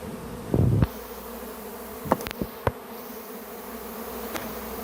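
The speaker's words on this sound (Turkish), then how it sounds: "Bunlar sinek değil ya. Bunlar arı arı." Bees swarming around a person, a steady close insect buzz throughout with a louder burst near the start and a few short knocks and taps, no talking.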